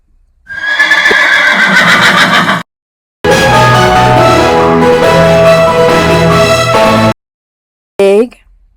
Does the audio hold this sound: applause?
no